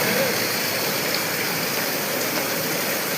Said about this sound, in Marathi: एकदम भयानक चालू आहे पाऊस जोरात.